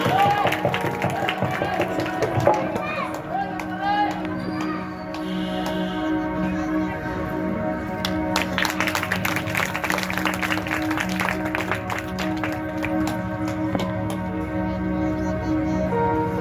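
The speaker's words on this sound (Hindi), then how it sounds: "ताली बजाएंगे।" An audience claps at a Bhagwat Katha religious gathering, with scattered crowd applause building into a dense, sustained patter of hands alongside music in a large hall.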